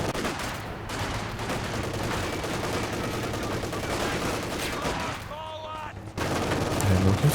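Rapid machine gun bursts and heavy gunfire rattle almost without a break in a Company of Heroes 2 battle, with a brief lull near the end.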